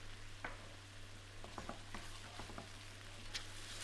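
A spoon scrapes and taps through chopped canned tomatoes and sugar in a pan, giving a few soft, sparse clicks and stirring sounds over a low steady hum, quiet and close.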